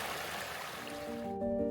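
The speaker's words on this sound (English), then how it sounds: "A 10-foot tall waterfall in my backyard?" A 10-foot-tall backyard waterfall and stream flow with a steady, soft rushing wash of water, fairly quiet and continuous, before sustained musical tones fade in near the end.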